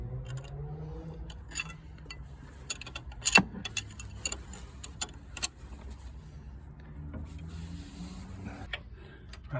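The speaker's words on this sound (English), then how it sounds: "So I just need to undo that with an 18mm spanner on the top." A 19mm spanner works loose a turbo pipe fitting on a MK2 Golf GTD, giving scattered metallic clicks and taps with one sharp clank, close but fairly quiet over a low background hum.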